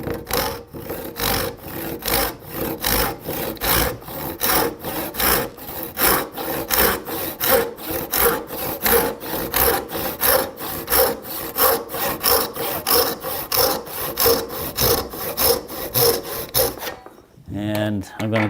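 Hand saw cutting a wooden tenon cheek for a mortise and tenon joint, close and alone: steady rhythmic back-and-forth strokes, roughly two per second, rasping on each pass, stopping near the end with a few knocks.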